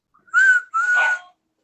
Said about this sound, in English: I'm blowing my whistle.